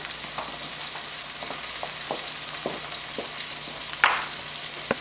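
Onions sizzling and frying in a pan while a fish stew base is started, a steady close hiss broken by a few soft stirring taps and one sharper clink near the end.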